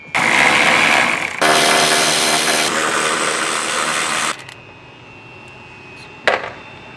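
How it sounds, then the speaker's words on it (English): A power tool whirs loudly in two sustained runs as the three 12mm airbox bolts are removed on a Gen 3 Toyota Tacoma, then falls quiet before a short final burst. "Now we want to remove the 3 bolts securing down the bottom half of the airbox. We're going to use a 12mm socket."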